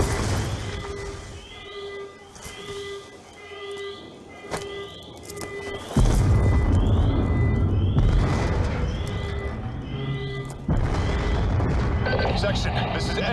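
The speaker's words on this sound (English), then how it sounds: "We're monitoring multiple explosions across the facility." Repeated booming explosions echo across a facility in Call of Duty: Black Ops 2, some distant and some louder and closer, layered with game effects, tones and voices talking.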